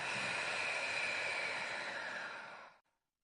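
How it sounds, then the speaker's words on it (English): One slow, steady exhale through the mouth, breathy and close, holding evenly for nearly three seconds before fading to silence. "and exhale through your mouth for 4"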